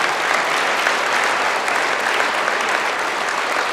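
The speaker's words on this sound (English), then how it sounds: "Would you mind to join me in giving them a round of applause for their time?" Steady audience applause fills a high school awards day ceremony honoring counselors and presenters, a dense continuous patter of many hands clapping without pause for about four seconds.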